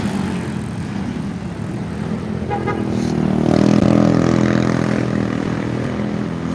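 Passing vehicles on a national highway in Danao City near the sea, a steady broadband rumble of traffic that swells to a louder pass around the middle before easing, with no talk over it.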